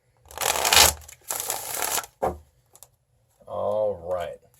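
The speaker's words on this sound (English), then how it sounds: "Get one more shuffle in here." A deck of tarot cards is shuffled in two close, rustling bursts, followed by a short tap and then a brief stretch of a person talking.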